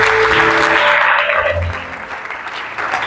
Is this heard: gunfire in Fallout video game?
no